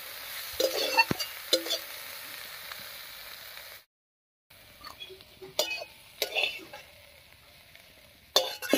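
Fried dhenki greens are stirred in a pan on the stove and lifted off, with sharp spatula scrapes and clinks over a faint sizzle, a short silent gap, then more scraping and clattering.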